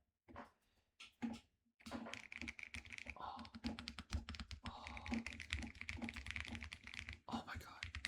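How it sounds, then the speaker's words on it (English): Rapid typing on a Keychron Q6 HE keyboard, a dense run of crisp close keystrokes after a few opening taps, with a voice talking faintly underneath. "Listen to this keyboard."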